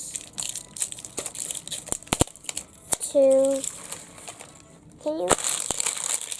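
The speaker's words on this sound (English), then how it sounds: "It took me like a few minutes to unwrap this." Plastic wrapping being peeled and crumpled off an LOL Surprise doll, with close, loud crinkling and crunching bursts in irregular handfuls and a brief spoken question partway through.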